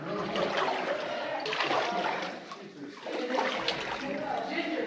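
Shoes splash and slosh through shallow Paria River puddles on a slot canyon hike, continuous wet splashing steps close by, with voices talking over the water.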